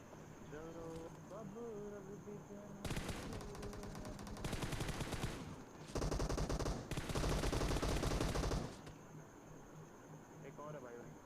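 In the mobile battle-royale game PUBG Mobile, loud bursts of automatic gunfire crackle in several sustained volleys, separated by brief pauses, over a constant game background, with a voice talking at times.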